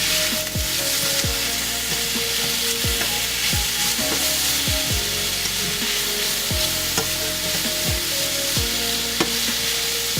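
Chicken for chicken Alfredo fries in a pan with a constant bright sizzle, while repeated stirring strokes add regular scraping sweeps roughly every half second, close and with no talking.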